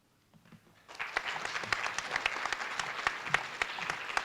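After a quiet start, applause for eighth-grade poetry recitation participants at a district literacy competition breaks out within a second, then continues as steady clapping from a moderate-sized audience.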